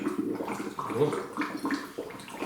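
Homemade wine made from energy drinks poured into a bottle, a steady gurgling trickle of liquid with small glugs running for a couple of seconds, moderately quiet and close.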